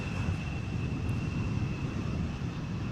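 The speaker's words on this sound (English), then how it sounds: "this was KLM flight 1904, Embraer 175, arriving from Hanover" KLM Embraer 175 jet arriving at Amsterdam Schiphol in crosswind, its steady engine roar rumbling at moderate distance with a faint high whine, continuous for the whole stretch with no talk.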